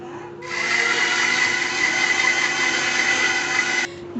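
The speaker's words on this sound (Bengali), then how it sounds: "তারপর আবার একসাথে মিক্সার করে নেব।" An electric mixer blends bananas, sugar and milk, switching on abruptly into a loud, steady whirring drone that holds for about three seconds before cutting off.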